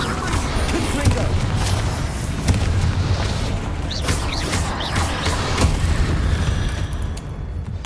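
A Confringo fire spell explodes in the Hogwarts Legacy video game, with loud, booming blasts and rumbling bursts rolling over a dense, continuous wash of game noise.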